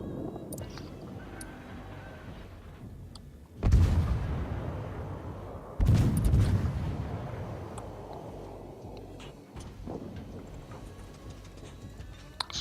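Warship guns in the World of Warships video game, with an IJN Umikaze tier 2 destroyer, fire two loud booming salvos several seconds apart, each rolling off into a low rumble over steady ambient game sound.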